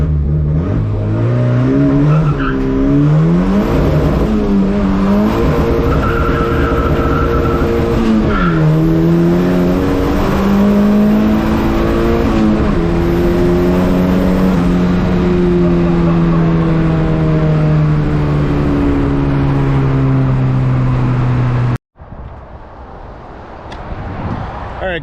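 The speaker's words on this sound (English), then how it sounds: "Let's show you guys a first gear to third gear pull" A panel wagon running an ethanol fuel mixture launches hard and pulls from first through third gear, its engine note climbing loud and close with drops at each shift, then cutting abruptly to a quieter scene near the end.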